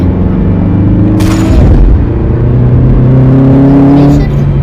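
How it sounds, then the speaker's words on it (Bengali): A Lamborghini engine drives in the video game Project Bengal, a loud continuous hum with steady tonal layers, one sharp burst or bump partway through, and a voice over the engine. "জিপ গাড়ি আমি চালাবো না, আমি ল্যাম্বো চালাবো"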